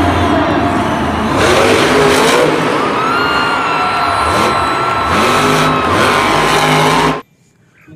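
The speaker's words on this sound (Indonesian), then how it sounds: "Wow, yang ini ada mobil monster" A monster truck engine revs loudly and continuously, its pitch rising and falling over several seconds before cutting off abruptly.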